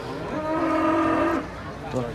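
Cattle at a livestock market give one loud, drawn-out moo up close, followed by a shorter low grunt, with crowd noise underneath.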